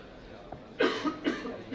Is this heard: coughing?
yes